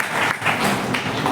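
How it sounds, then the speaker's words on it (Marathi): Audience applause at a retirement felicitation ceremony for a Mulund bus depot employee, a steady dense clapping from a crowd filling the whole moment without a break. "जोरात टाळ्या"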